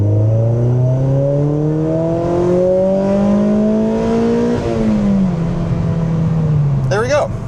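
Mazda NC Miata pulling hard through the gears on a closed road during a tuning run, engine pitch climbing steadily in a loud continuous rise, a brief dip partway, then easing off near the end.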